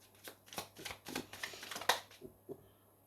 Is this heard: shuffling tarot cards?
yes